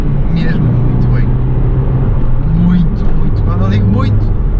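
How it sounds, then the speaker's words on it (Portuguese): An Audi TT Cabrio TFSI accelerating on the road, a loud steady engine drone heard from inside the car with a rising low hum, someone talking over it throughout. "Ora, vamos aqui acelerar um pouquinho, espetacular, o carro puxa mesmo muito bem"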